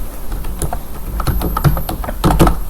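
Fingers tap quickly and irregularly on a computer keyboard during data entry into an Access datasheet, with close, crisp keystrokes and a few louder hits, and no one talking.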